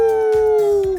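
A voice imitates a mother werewolf's howl in a Halloween read-aloud, a single close, drawn-out tone that slides slightly downward and cuts off after about a second.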